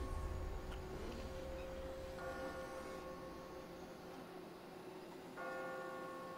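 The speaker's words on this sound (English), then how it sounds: "I just got spooked by those bells." Church bells toll in The Walking Dead game, two distinct ringing strikes with long humming decays over a low ambient rumble, moderately distant and without talk.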